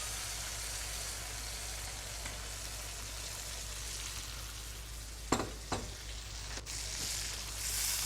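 Chicken or goat liver sizzling steadily in a hot pan with sun-dried tomato to follow, a continuous frying hiss with a few sharp clatters of stirring near the end.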